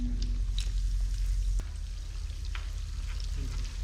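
Bread cheese balls fry in oil, a dense close sizzle with a low bubbling rumble and scattered small pops, briefly stirred once, with no speech.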